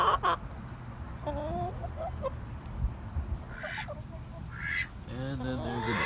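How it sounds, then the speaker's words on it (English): A duck quacking among chickens on an outdoor trail, a few scattered short quacks and clucks at moderate distance over low background noise. "And then there's a duck."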